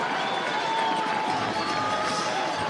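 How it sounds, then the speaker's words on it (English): A football stadium crowd at a college game between West Texas A&M and Midwestern State roars in a dense, continuous cheer, with commentary voices blended underneath. "And just hear that crowd get into it again here at Bain Schaefer Buffalo Stadium"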